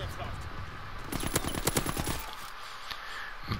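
Rapid automatic gunfire from a weapon in a multiplayer shooter video game, a dense burst of shots in the middle of the clip that stops abruptly, set against steady game background noise.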